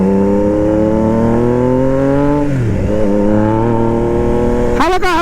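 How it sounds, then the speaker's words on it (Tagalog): A Triumph Trident 660 motorcycle engine revs hard at high RPM, loud and close. The rising tone holds, dips sharply, then climbs again before another quick blip of the throttle. "pag yung high RPM na, doon nalabas ang tunog niya."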